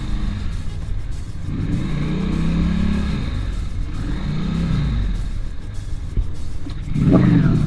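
A Honda Shadow VLX 600 motorcycle engine revs in neutral, rising and falling in a few long swells over a steady rumbling idle, loud and close, with a sharper rev burst at the end.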